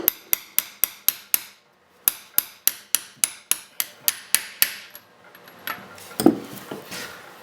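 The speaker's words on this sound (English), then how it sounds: "Give her a little tap." Sharp hammer taps on a snowmobile rotary valve part during Ski-Doo rotary valve seal work, a rapid even series of close, ringing metallic knocks, then a pause and another run, ending in scattered clatter and a louder clank.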